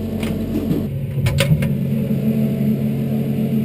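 A microwave oven runs at full power, heating oil and peeled garlic cloves under a small covering plate; a steady, close mechanical hum continues throughout, with a few faint clicks early on.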